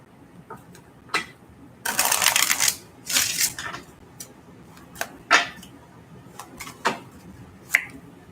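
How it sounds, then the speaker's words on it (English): Tarot cards shuffled by hand during a live reading: two dense rustling riffle bursts near the start, then scattered short taps and card clicks, close and fairly quiet, with no talking. "Get one last shuffle."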